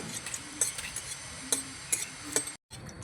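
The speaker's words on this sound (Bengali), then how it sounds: "শুকনো লঙ্কাটা ভেজে নিয়েছি দিয়ে দেবো দুটো ছোটো সাইজের তেজপাতা তেজপাতাটা ভালো করে ভেজে নেব" Dry red chillies and bay leaves frying in hot oil for egg fried rice, a faint soft sizzle with a few sharp metallic taps of a spoon on the pan, close, no talking.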